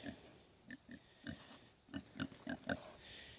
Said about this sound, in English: Hey, big pig.